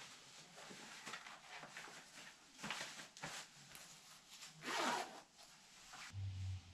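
The one-way zip on a Mountain Equipment jacket is worked back and forth, giving a series of close, scratchy rasping pulls with short pauses between strokes.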